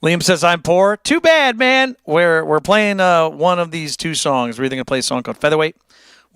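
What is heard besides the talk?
No everyday noises stand out.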